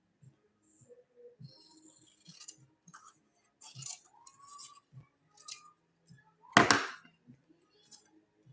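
Scissors snipping paper for an art journal page, a series of short, close crisp cuts with pauses between, fairly quiet, with a brief louder rustle of paper handling near the end.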